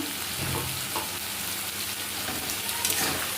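Chopped tomato and a spoonful of grated ginger frying in a pan for a village-style home-spiced chicken curry, giving a steady, close, continuous sizzle with faint stirring and no talking.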